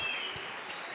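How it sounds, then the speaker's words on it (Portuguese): Brief applause from a small audience after poetry recited on a college program, a short, fairly soft wash of clapping lasting about a second. "Uma salva de palmas,"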